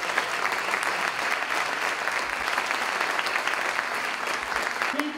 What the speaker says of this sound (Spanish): Aplausos para nuestros directores de las escuelas preparatorias.